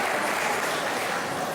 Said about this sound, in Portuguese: Vamos receber com a salva de palmas o nosso subsecretário de administração